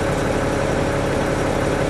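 Military truck diesel engine at an airfield in Kandahar, Afghanistan, held steady at about 1,000 RPM, a loud, close, continuous low rumble with no talk over it.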